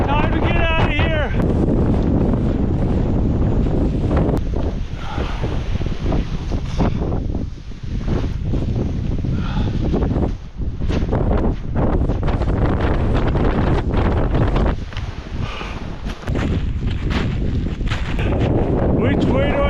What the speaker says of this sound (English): If I can get into the trees, I can get a block from the wind.